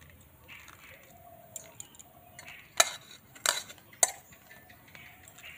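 Bael fruit pulp is scooped with a big spoon, a few soft squelching scrapes followed by three sharper clinks of metal against the hard shell, close and quiet with brief gaps.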